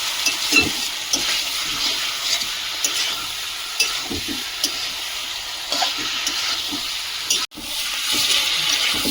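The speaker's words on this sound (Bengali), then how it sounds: "মশলাটা ভালোভাবে কষিয়ে নিয়েছি এবারে চিকেনটা দিয়ে দেবো" Chicken frying in spice masala gives a steady hissing sizzle with scattered stirring scrapes, one sudden brief dropout near the end, fairly loud and close.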